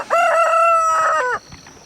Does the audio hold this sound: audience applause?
no